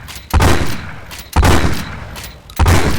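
Gunfire in the Postal 4 video game rings out as three loud, booming bursts roughly a second apart, each decaying into a rumbling tail, with no voices.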